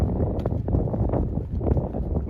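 Gusty wind buffets the microphone at an RC helicopter flying field, a steady low roar rising and falling in waves for a couple of seconds with no voices.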